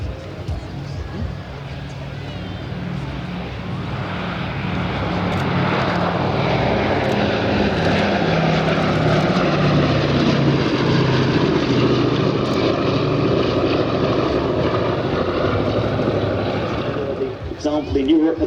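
The Boeing B-17 Flying Fortress "Sally B" passes in a flying display at Biggin Hill Festival of Flight, its four piston engines droning loudly and swelling as it passes, with a public-address voice speaking over the roar.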